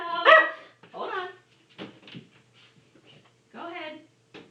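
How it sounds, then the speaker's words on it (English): A house dog barks at the front door after the doorbell rings, several loud close barks with yips and whimpery tails in uneven bursts, separated by short quiet gaps. "the dog is barking at the door"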